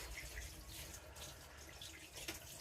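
Water runs faintly but steadily from a tap while a homemade loofah sponge is rinsed under it, with soft splashing and no talking.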